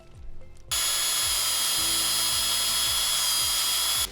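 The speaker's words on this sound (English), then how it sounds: "I'm gonna start drilling here soon" A power drill bores a tap hole into a maple tree for sap, a steady loud high whine starting abruptly after a short quiet moment and running continuously to the end.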